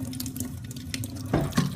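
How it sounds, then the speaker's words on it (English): Kitchen faucet running at a light sprinkle for a hedgehog bath, a steady close hiss of spraying water with a couple of louder splashes near the end. "I'm just gonna put the water intensity just a bit to a light sprinkle."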